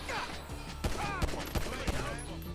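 Video game gunfire in a GTA 5 mission, several sharp shots fired in a quick irregular burst over a muffled background.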